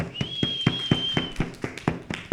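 Rhythmic claps in a classroom, about ten evenly spaced hits at a steady pace, fairly close, with a high sustained tone running beneath the first half.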